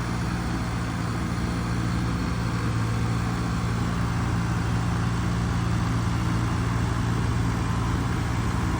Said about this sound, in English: He's pulling with that tractor.